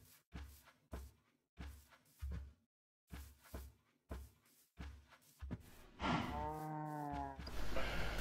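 Cows in the Minecraft video game snort and low in a run of short, repeated bursts, closer and louder near the end with a drawn-out tonal call, heard alone without talk.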